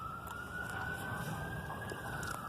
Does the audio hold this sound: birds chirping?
no